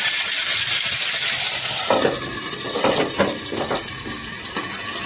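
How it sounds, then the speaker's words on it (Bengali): Chicken leg pieces fry in oil in a wok, giving a steady, close sizzle with a few soft clinks of a utensil against the pan, and no voices. "আর এখানে আমাদের লেগ পিসগুলো ভাজা চলছে।"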